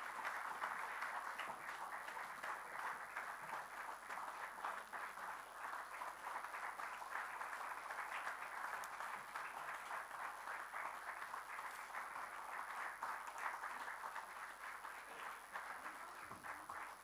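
Steady crowd applause fills the space, a dense continuous wash of many hands clapping at an outdoor or hall event, even in level from start to finish with no pauses.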